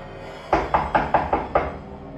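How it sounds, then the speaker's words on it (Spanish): Six quick, firm knocks on a door in a fairly even rhythm, close and loud, with short pauses of quiet around them. "Alguien tocaba la puerta. Lo hacía con afán."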